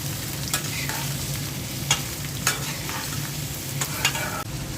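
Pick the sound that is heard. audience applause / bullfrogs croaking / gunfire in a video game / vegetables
vegetables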